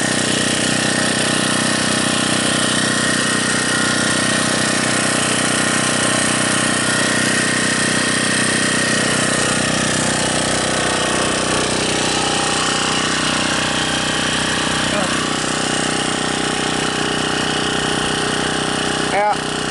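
A 4.5-inch angle grinder bites into a grade 8 bolt while running off a budget generator in cold weather, a loud, close, unbroken grinding roar that holds for nearly twenty seconds.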